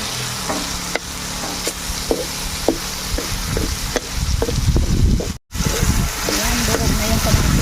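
Tomatoes frying in rendered meat fat in a pan, a continuous sizzle with repeated clacking stirs and scraping of a utensil, growing busier toward the end, while a person talks over the cooking.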